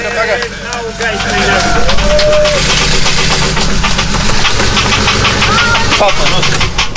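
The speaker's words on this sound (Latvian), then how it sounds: "Tas tīkšķis nozīmē, ka motors ir kaput un tā ir skaņa, ko mēs negribējām dzirdēt." A failing car engine runs loudly and roughly after starting, with a rapid metallic ticking knock through its idle while a voice speaks over it.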